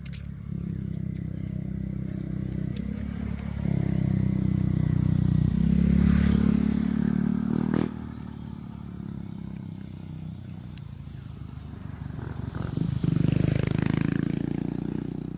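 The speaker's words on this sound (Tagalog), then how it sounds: "May motor." A motorcycle passes along a roadside near a field, its engine note swelling loud and close then fading, with a second surge toward the end over steady outdoor background noise.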